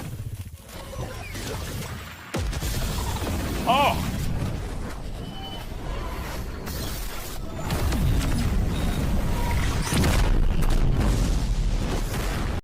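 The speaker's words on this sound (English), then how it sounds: "someone took JoJo sound effects and they put it over One Piece sound effects" Anime fight sound effects from JoJo dubbed over a One Piece scene: booming, bass-heavy impacts and bursts run under a lively mix, with a loud hit near the start and a brief exclamation.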